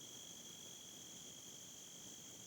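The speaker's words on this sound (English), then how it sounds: "And you can hear all the insect life." Steady, continuous insect chirping, crickets among them, fills a pollinator pasture seeded with bee plants, with a sustained high-pitched trill that holds evenly throughout over a faint soft background and no voices.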